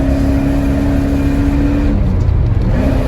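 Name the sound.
1982 Porsche 928 accelerating through the gears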